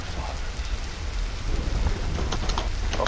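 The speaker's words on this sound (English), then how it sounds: "Oh, another great storm," A video game rainstorm pours heavily with low rumbling thunder, a dense steady hiss of rain with scattered sharper drops and a deep swell of thunder partway through.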